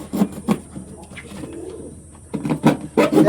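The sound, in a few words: Blue Bar Lahori pigeons cooing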